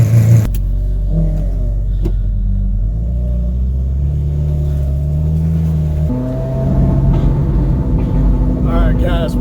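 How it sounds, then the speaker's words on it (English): Loud car engine rumbling and revving while driving, with the exhaust cracking and popping, deep and continuous throughout with a rise in revs near the end; voices are faintly present under the engine. "My car's loud and cracking and popping"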